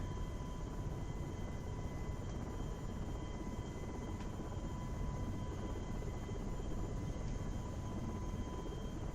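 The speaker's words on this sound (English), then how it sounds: "Now this is where I really show off how bad my helicopter skills are for a second here." A helicopter flies in the FSX/P3D flight simulator, giving a steady, unbroken rotor-and-turbine drone with a faint whine held throughout, without clear changes in loudness.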